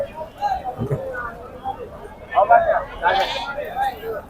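Goats bleat at a livestock market in Pebbair, Wanaparthy district, Telangana, with several short calls rising over a backdrop of people talking nearby.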